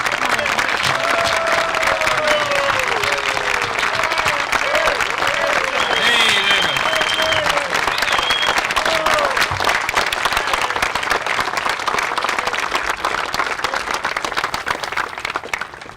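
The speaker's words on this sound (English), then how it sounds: "let's give him a big hand." A crowd applauds a labor leader at a workers' mural dedication ceremony in Minnesota, sustained loud clapping filling the room for about sixteen seconds, with scattered voices and cheers mixed in before it thins near the end.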